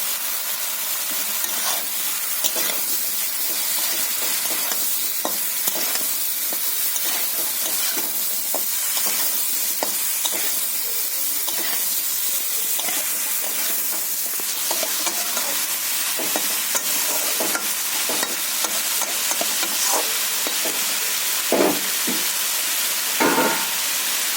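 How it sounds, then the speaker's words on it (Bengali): Bottle gourd with salt and turmeric sizzling in a hot pan as it is stirred, a continuous close frying hiss with repeated scraping strokes of a spatula, with no one speaking. "কেটে ধুয়ে রাখা লাউটা আমি দিয়ে দিচ্ছি"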